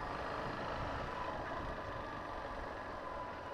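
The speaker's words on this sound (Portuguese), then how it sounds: "Ih, tem um guincho aí, ó." A tow truck's engine rumbles steadily and close by on a street, a continuous low idling drone with no voices over it.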